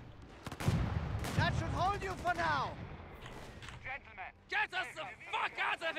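An autocannon fires in the video game Company of Heroes 3, a 4v4 Afrika Korps multiplayer battle: sharp repeated shots and bursts, some booming and some quicker, under someone talking.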